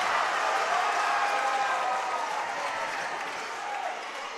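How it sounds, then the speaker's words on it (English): A crowd in a high school gym roars and cheers for the Sidney boys basketball team, a loud dense wall of voices and clapping that holds steady and eases slightly toward the end. "That's got the Sidney crowd fired up"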